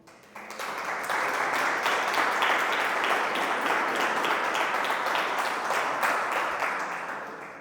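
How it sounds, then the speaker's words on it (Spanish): A church congregation breaks into applause during a sermon, the clapping rising quickly and holding dense and steady for several seconds before tapering slightly at the end. "Eso merece un aplauso."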